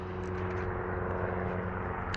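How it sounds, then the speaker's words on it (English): A plane drones overhead above a fishing spot by a tree before a thunderstorm, a steady, continuous engine hum with no talk. "Here comes another plane"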